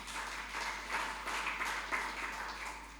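A congregation applauds during a Good Friday church service, a soft, distant wash of many hands clapping that swells and fades over a steady low hum.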